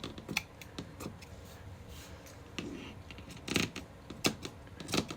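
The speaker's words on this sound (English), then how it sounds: "I think I'm just gonna cut these like this" Scissors cutting craft materials at a crafting table, a run of sharp snipping clicks scattered at irregular intervals, close and fairly quiet, with clusters of snips toward the end.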